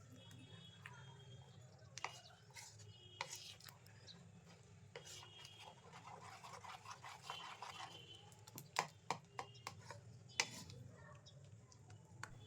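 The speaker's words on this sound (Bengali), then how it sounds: "নলেন গুড় দিয়েও খুব ভালো করে মিশিয়ে নেব।" Soft clinking and scraping of a spoon stirring nolen gur, date palm jaggery, into mung dal batter in a bowl, with irregular light taps close by and quiet talk in the background.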